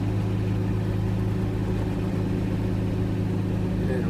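Vehicle engine running steadily while driving a short distance, a low constant rumble with a mid-pitched hum, close and even in level, no voices.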